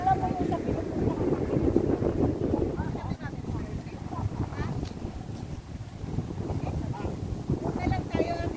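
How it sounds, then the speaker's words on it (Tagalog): Wind gusting at Tai Tam Country Park, buffeting the microphone in a steady roar that swells and eases, with people talking over it throughout. "Wow, ang hangin."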